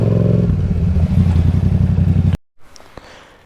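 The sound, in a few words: 2019 Yamaha MT-07 twin-cylinder motorcycle with decatted exhaust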